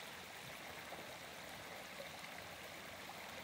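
A river stream flows steadily with a soft, continuous rush and gurgle. The sound is faint and even, with no voices.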